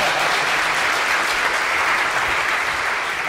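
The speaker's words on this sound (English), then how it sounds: "oh sorry, yeah, clap for him." An audience at a lightning talks event gives a speaker a steady, dense round of applause, loud and continuous throughout with no voices over it.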